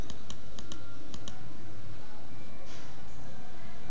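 Mouse clicks come during a software installation on a computer: a handful of sharp, close clicks in quick bursts early on, heard over a steady background hum.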